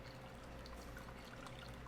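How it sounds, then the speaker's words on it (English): Vanilla bean ice cream base poured steadily into a pot, a soft continuous trickle and splash of liquid heard close up without any talking. "you're gonna go ahead and pour this in to the pot"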